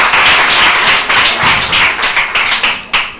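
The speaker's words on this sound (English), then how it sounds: "let's give him a round of applause" Audience clapping and applause at a small community business workshop in Kanyamazane, Mpumalanga, close and steady for about three seconds with dense overlapping hand claps and no talk.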